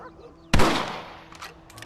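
A rifle shot in the Red Dead Redemption video game: one loud, sharp crack with a long decaying tail, followed by faint, brief sounds.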